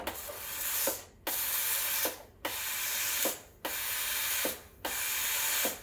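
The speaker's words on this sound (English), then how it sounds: "So it'll pulse the steam 5 times just to empty the insides of the milk." The steam wand of a Breville Oracle BES980 espresso machine pulses steam five times, each burst a hissing rush that swells and then stops sharply, evenly spaced about a second apart.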